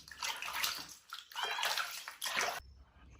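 A dirty myna bird being washed with water, several short bursts of splashing and running water separated by brief pauses, close and fairly quiet.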